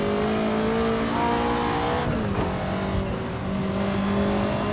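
A Ferrari 288 GTO in Assetto Corsa pulls hard around the Nordschleife, engine droning loud and steady with rising revs, a gearshift dip midway, and the whine climbing again.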